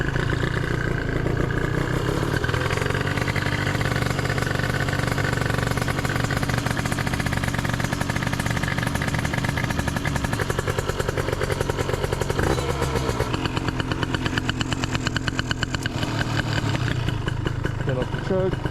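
Gilera Runner 180cc scooter with a Malossi exhaust and 28mm carburetor idling after an early-morning cold start on choke, a steady loud close engine putter running throughout with a person talking over it.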